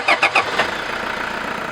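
A Toyota Hilux diesel pickup engine gives a few quick rough bursts, then settles into a steady mid-pitched running drone, close by.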